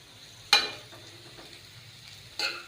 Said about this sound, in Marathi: आता ही कारली शिजेपर्यंत दहा ते बारा मिनटं सतत ही मिक्स करत राहायची आहे